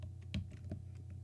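Typing a command into a Windows command prompt on a computer keyboard: a short run of close, crisp keystrokes with one louder key press, over a low electrical hum, no talking.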